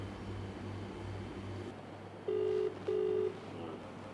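A telephone ringback tone from a phone call, two steady beeps in succession over a low background hum and hiss.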